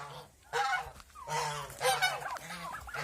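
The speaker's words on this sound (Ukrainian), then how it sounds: "Ну от такі індики." Loud, repeated gobbling and honking calls from nearby turkeys, several birds calling in bursts.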